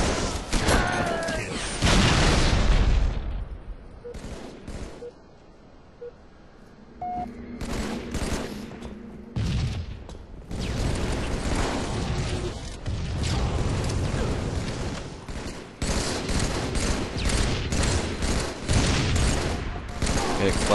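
Brute shot grenade blasts and rapid gunfire from a Halo-style team slayer match, with bursts of shots and booms coming in clusters, and a commentator talking over the action.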